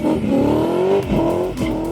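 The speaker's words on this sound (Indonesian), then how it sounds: "di dasarnya sendiri mesin V8 udah ngerambelnya udah seperti itu" Deep rumbling V8 engine of a BMW E30 with a low, throaty exhaust note, rising in pitch as it revs and briefly dipping before climbing again, close and loud.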